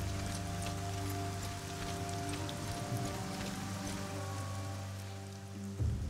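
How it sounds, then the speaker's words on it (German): Rain falling in the fantasy video game Arcania (Gothic), a steady, soft patter on surfaces layered over a low droning musical ambience, with a brief bump near the end. "Da haben wir wieder den Regen."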